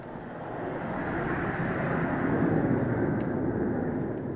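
A small airplane drones overhead, a steady broad engine rumble that swells gradually and holds at a moderate distance, with no talking.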